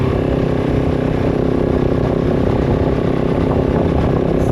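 KOVE 450 Rally motorcycle engine idling up close, loud and continuous with a steady rough mechanical chatter throughout, no voices.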